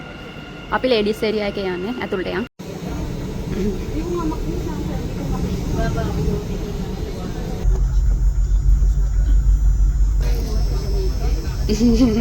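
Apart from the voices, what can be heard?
metro train arriving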